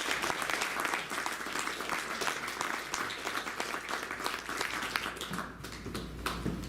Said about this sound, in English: So please give a round of applause to David Trinidad.